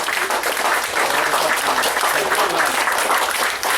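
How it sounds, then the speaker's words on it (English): A seated audience applauds at a speech event, a dense, steady wash of clapping that stays loud and continuous throughout. "Everybody clap one more time because he really deserves it."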